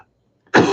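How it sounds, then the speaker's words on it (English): A single harsh cough bursts out close and loud after a moment of near silence. "I'm so sorry that I've got the cough."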